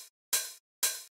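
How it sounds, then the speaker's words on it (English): A 909 open hi-hat sounds twice, separated by a short gap, with a tail from a previous hit at the start. Each hit is bright and noisy with a sustained, slightly decaying sizzle, played alone and fairly loud. "And then I have this 909 open hi-hat."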